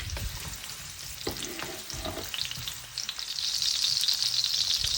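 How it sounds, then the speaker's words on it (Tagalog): Onion sautéing in oil in a pan, close frying crackle with a few stirring knocks, the sizzle swelling louder and brighter in the last seconds. "Igisa ang sibuyas."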